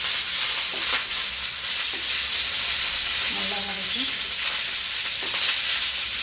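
Crushed garlic sizzles and fries in hot oil for a South Indian curry leaves thokku, a steady, close crackling hiss throughout with faint stirring clinks.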